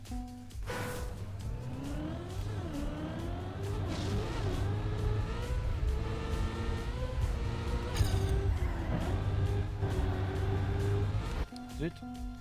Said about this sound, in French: Faut que j'augmente par contre le son du moteur parce que clairement je l'entends pas fort.